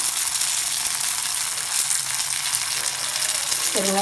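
Curry leaves, dried red chilies and asafoetida crackle and sizzle in hot oil in a pan for chutney tempering, a steady close frying hiss throughout with a brief clink near the end.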